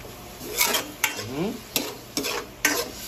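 A spoon stirs fish stew with kamias and pork fat in a pan, making about five short, sharp scraping strokes over a soft simmering sizzle, close and with no talking.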